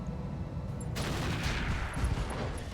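LBX AC-10 autocannon fire in the BattleTech RogueTech game, a dense burst of rapid shots erupting after a quiet second and rolling on as a loud, crackling fusillade with no talk over it.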